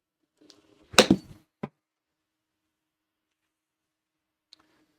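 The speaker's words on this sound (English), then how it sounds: "if I hit a few shots, let me just hit a few." A golf ball struck with a 9 iron on a launch monitor setup: one sharp, close impact thwack with a brief rattle, then a smaller knock and a faint tick later, otherwise quiet.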